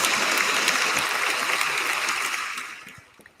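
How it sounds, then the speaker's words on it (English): Audience applause at a comedy competition as the winner is announced, a dense broadband patter of clapping that holds steady and then fades out toward the end. "give Sonal a big round of applause"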